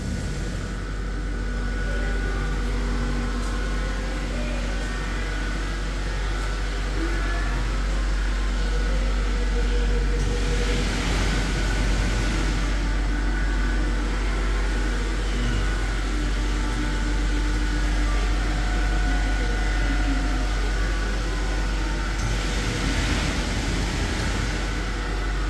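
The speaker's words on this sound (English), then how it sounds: "clean your DPF in this extremely powerful machine" A powerful DPF cleaning machine works on a Ford Transit Custom diesel particulate filter, a loud, steady roaring hiss that swells in two brief surges of rushing air.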